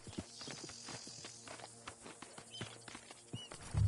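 Horse hooves clip-clopping at a steady walking pace in Red Dead Redemption 2, a string of regular near thuds with a low rumble and a louder burst at the end.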